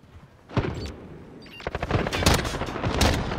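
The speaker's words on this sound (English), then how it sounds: "He shot me, man. Hey, I shot him back though." Video game gunfire from Call of Duty Modern Warfare: a brief shot burst, then a dense run of rapid automatic fire with sharp cracks, loud and close.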